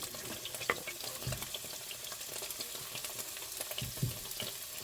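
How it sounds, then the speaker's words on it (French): Onions are going into hot oil for stir-fried beef noodles and start to fry, giving a faint, steady sizzle and crackle with a few louder pops and clatters from the pan as they settle. "Quand votre huile a chauffé quelques minutes, vous allez mettre vos oignons."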